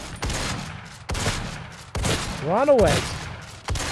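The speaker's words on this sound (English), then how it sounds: "Close range, this shotgun rips enemies apart." Shotgun blasts in the DOOM game, loud close booming reports roughly every second, four in a row, with a shouted voice and a rising-falling tone overlapping the third shot.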